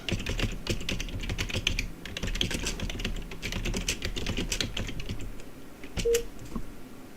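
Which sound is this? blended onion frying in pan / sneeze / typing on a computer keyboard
typing on a computer keyboard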